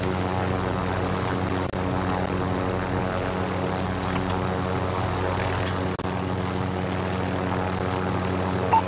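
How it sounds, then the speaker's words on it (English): Propeller-driven UAV drone droning overhead in the Call of Duty Warzone video game, a loud steady engine hum with buzzing harmonics that holds constant throughout, no voices heard. "UAV entering the AO."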